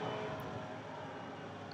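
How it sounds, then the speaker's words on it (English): An airplane passes overhead as a steady, distant, broadband engine rumble that holds evenly throughout, faint and without nearby voices. "Oh, I hear Harold. We call all airplanes Harold"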